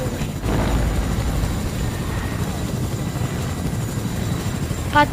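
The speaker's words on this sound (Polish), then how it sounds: "O, tam lata pode mną helikopter." A helicopter in a video game flies below the player, giving a steady, dense whirring drone that fills the whole stretch at a constant level, with a brief sharp blip at the end.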